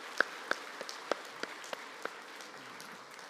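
A church congregation at a Thanksgiving all-generation worship service gives sparse applause, a handful of separate claps spread out over a few seconds, faint and fading.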